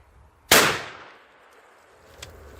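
A single shotgun blast firing a Sportsman high-speed steel shotshell outdoors: one sharp, loud crack followed by a decaying echo over about half a second, then quiet with a faint distant click near the end.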